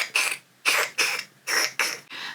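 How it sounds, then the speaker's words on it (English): A crochet hook squeaks while working an amigurumi dancing cow kit, giving six short, fairly loud squeals in an uneven rhythm, close up with no talking. "Do you hear the noise that I hear? It's the hook."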